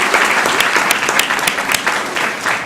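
Applause at a city council meeting: a room full of people clapping steadily and fairly loudly, dense and even for the whole span with no speech over it.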